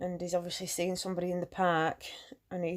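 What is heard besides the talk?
No distinct noise like a dog, phone or traffic.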